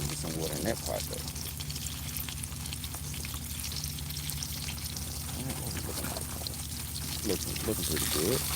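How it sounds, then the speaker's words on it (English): Water pours in a continuous, steady stream into a garden pot of soil outdoors while a person talks over it. "Let's try to get some water in that pot though."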